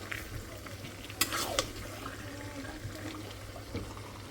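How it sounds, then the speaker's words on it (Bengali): Beef cooks dry in spiced oil, bhuna style without water, while a spoon stirs it in the pan. Soft sizzling and scraping run faintly throughout, with a couple of brief clinks in the middle. "মাংসটা কষায় নি আজকে পানি ছাড়াই রান্না করব কষায় রান্না করব"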